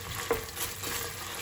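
Spoon stirring tomato puree into a pot of Greek green bean stew with garlic, a soft scrape and gentle sizzle from the pan, brief and close, no voices.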